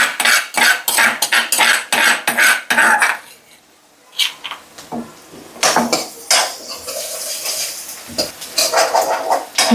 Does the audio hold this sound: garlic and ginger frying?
yes